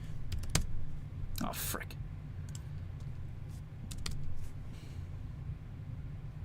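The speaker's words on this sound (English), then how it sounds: "I'm just going to type in 309" Clicky keys rattle on a computer keyboard in scattered quick bursts while typing a search, close up under low background hum, with a brief muttered remark.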